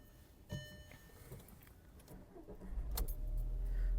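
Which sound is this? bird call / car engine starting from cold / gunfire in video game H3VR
car engine starting from cold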